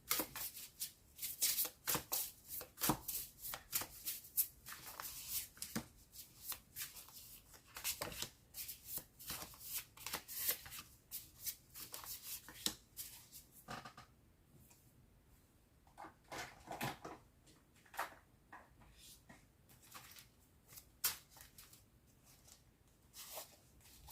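Tarot cards being shuffled close up in quiet surroundings, with repeated soft riffling and slapping bursts that come irregularly and thin out toward the end.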